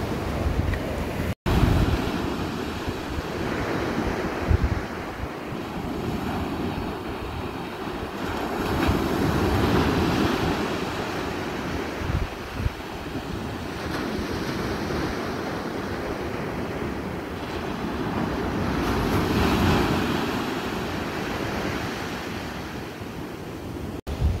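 Ocean surf rolls onto the beach at Huntington Beach State Park, South Carolina, as the tide comes in: a steady, close, loud wash of breaking waves with gusts of wind buffeting the microphone and no voices.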